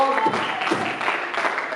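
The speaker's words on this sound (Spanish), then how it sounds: "Un aplauso fuerte al Señor." A church congregation claps steadily through a short stretch of dense, continuous applause at moderate distance, with a voice speaking briefly over it.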